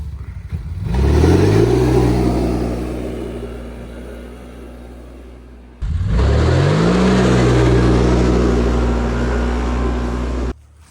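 A CFMoto CFORCE 800 ATV fitted with a clutch kit revs hard twice, each burst climbing in pitch then holding a loud, close engine roar before cutting off.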